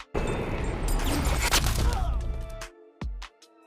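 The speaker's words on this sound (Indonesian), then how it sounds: "Mendengar suara tembakan dari bawah" A rapid burst of gunfire fired from below rattles loudly for about two and a half seconds, followed after a short gap by a single sharp shot.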